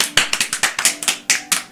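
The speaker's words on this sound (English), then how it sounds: "I'm the first to start applauding." Applause sound effect from the video game Doki Doki: a short burst of about a dozen sharp claps at a fairly steady rhythm, close and moderately loud, with no talking.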